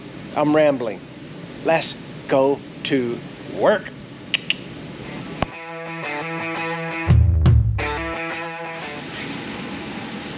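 Someone talks briefly in a hot garage, then a steady air conditioner hums and whirs loudly with a tonal mechanical drone, continuing through a short low thump and carrying on behind the work.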